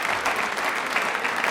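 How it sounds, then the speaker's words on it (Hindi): Studio audience on a Rajasthani TV quiz show bursts into loud, continuous applause that holds at an even level, dense and close, with no voices over it. "तालियां प्लीज एक बार जोरदार हो जाए राज कपूर जी के लिए"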